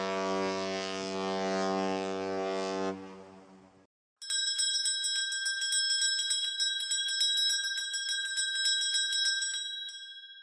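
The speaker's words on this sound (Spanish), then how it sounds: "el barco hace sonido grave y la campana hace sonidos agudos" A deep, sustained ship horn blares for a few seconds, then a short pause, then a bright bell rings in rapid repeated strikes.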